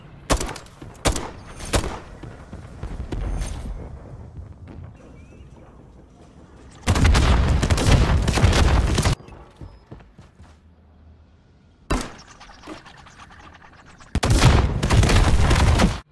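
Bursts of rapid automatic gunfire from shooting spawn tubes in Modern Warfare III, loud sustained volleys of a few seconds each separated by quieter stretches with short single shots and clatter.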